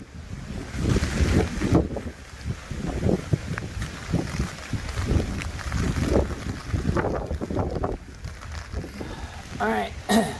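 Gusty wind of 20 to 30 miles per hour buffets a Cloud Wing 2 tent loudly in uneven bursts, roaring and easing over a steady rushing background, with a brief tonal sound near the end.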